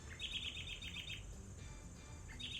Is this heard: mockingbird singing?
yes